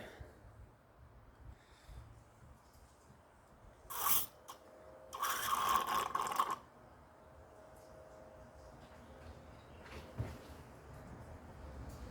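Hand pump sucking old clutch fluid out of a Corvette C5 reservoir: two short bursts of squelching suction, one brief and one longer, over a quiet background with faint ticks.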